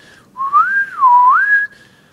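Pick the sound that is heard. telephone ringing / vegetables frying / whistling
whistling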